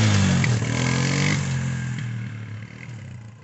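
A small 90cc dirt bike with a 5-speed semi-automatic, clutchless gearbox revs up close, its engine a loud buzzing drone that rises in pitch and then gradually fades as it pulls away.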